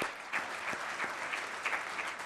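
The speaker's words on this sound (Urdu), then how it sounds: "مزید تالیاں لیڈیز اینڈ جینٹلمین۔" Audience applause at a formal ceremony attended by Pakistan's prime minister, a steady moderate clapping from a seated crowd with a few sharper individual claps standing out, fairly distant.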